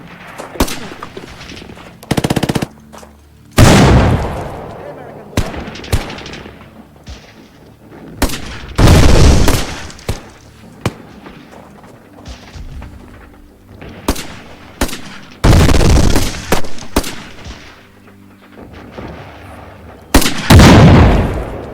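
Bursts of machine gun and rifle fire in a WWII military simulation video game, loud and close, arriving in separate sharp volleys with quieter gaps between them.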